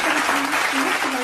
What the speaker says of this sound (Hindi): जोरदार तालियों से सम्मान करें।